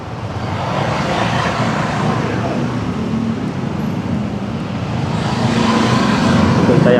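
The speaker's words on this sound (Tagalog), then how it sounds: "Traffic." Road traffic makes a continuous broadband roar as cars pass nearby. The noise swells and eases slightly, stays fairly loud throughout and has no clear speech.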